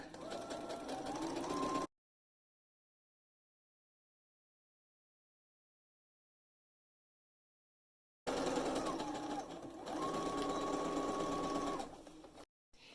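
A sewing machine stitches bias tape onto a garment neckline in two loud, steady bursts of motor whir, separated by a long silent gap, with no talking.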